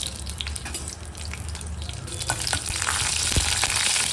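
Curry leaves and one or two dried red chilies sizzle in hot tempering oil, a close, dense crackling hiss that grows louder toward the end, with sharp pops and no talking.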